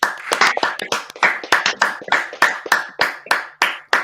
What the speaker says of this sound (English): Can we get a round of applause for Bale as he comes off